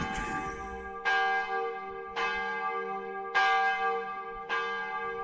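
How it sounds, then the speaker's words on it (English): A bell rings loudly, struck four times in a slow steady rhythm, each clang ringing out in a long resonant decay. "Till he woke to the knell of a furious bell, which the bellman rang close to his ear."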